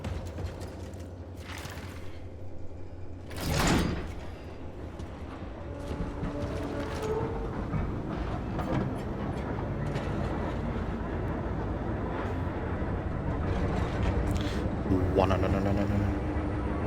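Tram doors and a moving tram in the video game Cronos: The New Dawn, with mechanical clunks followed by a steady rumbling, rattling ride under faint game sounds.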